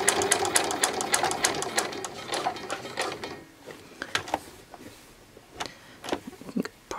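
A sewing machine stitches the front pieces of a pair of jeans in a fast, steady mechanical patter close by, then slows into a few separate stitches.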